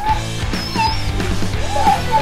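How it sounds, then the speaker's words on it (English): A dog gives a few short whimpering yips and whines close by in a busy household, brief and high-pitched, with faint background noise. "A dog."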